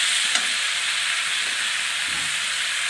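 Fish curry of khoira fish frying in a pan with chopped tomato, turmeric and salt, giving a steady, dense sizzle and hiss that stays even throughout, with a few faint stirring knocks underneath.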